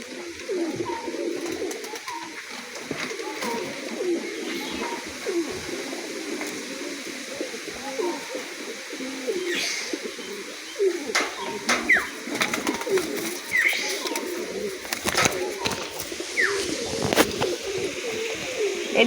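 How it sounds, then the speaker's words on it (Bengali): A pair of neck-pressed domestic pigeons, a male and a female, keep up a continuous low cooing among other birds. Brief chirps and light clicks sit over a steady ambient hiss, and there is no talking. "দুটো গলায় চাপ পায়রা সেট দেখাচ্ছি দেখুন।"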